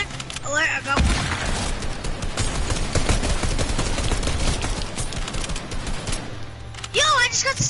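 Gunfire from the video game Fortnite rattles loudly and continuously in dense rapid bursts, while a voice talks briefly at the start and end.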